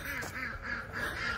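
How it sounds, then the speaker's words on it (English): Homestead poultry shut in a coop call in a steady stream of quacking and honking, close and moderately loud, with several overlapping voices and no talk. "I'm about to let the birds out. As you can hear, they're ready."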